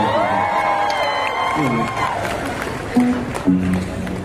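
A concert crowd cheers and applauds at a show, a steady wash of claps and shouts with a few whoops rising near the end, while voices carry over the noise.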